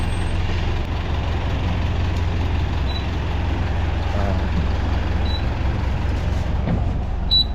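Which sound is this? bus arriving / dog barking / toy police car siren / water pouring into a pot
bus arriving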